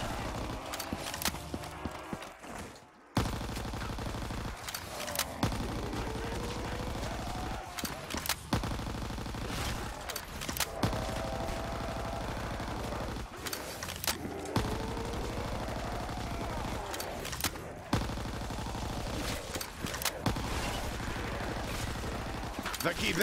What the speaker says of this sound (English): Nothing like an SMG